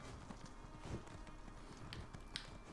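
Horse hooves clopping at a quick running pace while riding in The Elder Scrolls Online, in Elden Root, a steady rapid patter of footfalls near and moderately loud with no talking.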